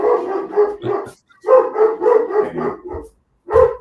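Dog barking close and loud in rapid bursts of several barks each, with short pauses between the runs.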